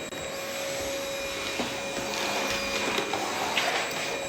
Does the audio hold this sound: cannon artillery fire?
no